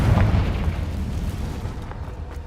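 A Confringo fire spell explodes in the Hogwarts Legacy video game with a deep, loud boom at the start that fades into a rumbling tail over about two seconds.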